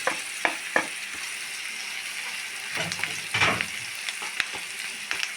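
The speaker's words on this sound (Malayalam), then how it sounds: "നമ്മൾ വെച്ച സബോളയൊക്കെ നന്നായി ഫ്രൈ ആയിട്ടുണ്ട്" Onions fried with turmeric and chili powder sizzle steadily in a pan, broken by sharp scrapes and clinks of a spoon stirring, with a thicker burst of crackle near the middle.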